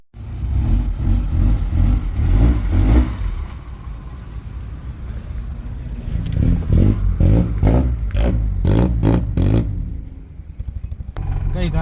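A Volkswagen Golf Mk1/Mk2, just fitted with a new oil pump, drives on a test run, its engine droning and revving steadily with rattles and clatter toward the end, heard from inside.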